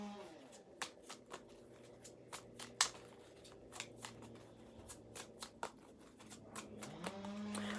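Oracle energy cards are shuffled and drawn, giving quiet, crisp riffling with a string of sharp card slaps in an irregular rhythm over a soft background hum.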